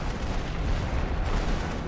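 Artillery fire in The Great War: Western Front strategy game, a dense continuous rumble of overlapping booms and blasts, loud and steady throughout with no talk.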